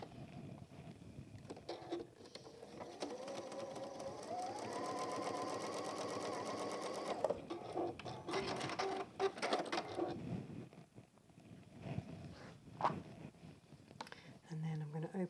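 Sewing machine stitching a straight seam across fabric pieces for a Tilda-style goose toy, a steady whirring run of about seven seconds followed by shorter bursts and handling noise.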